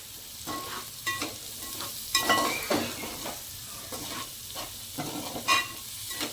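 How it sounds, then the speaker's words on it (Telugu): Meal maker soya chunks fry and sizzle in a pan as a spoon stirs them, with repeated scraping strokes and clinks over a continuous close, moderately loud crackle. "ఇప్పుడు నేను ఈ మిల్ మేకర్ కూడా వేసేస్తున్నా."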